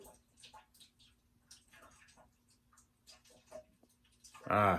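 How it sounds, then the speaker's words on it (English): Faint trickling and dripping of water running down a drain pipe, sparse and irregular, ending in a short louder gush. "In our drain pipe over there, I can hear water coming down"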